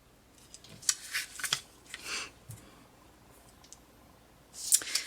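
Scissors snip through quilt fabric and paper trimmed along a ruler, a few quick clicking cuts in a quiet room, then a pause before another close burst of snips.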